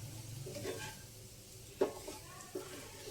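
Beetroot and coconut curry frying gently on a low flame in a pan, a faint soft sizzle with a few sharp clinks of a stirring spoon against the pan.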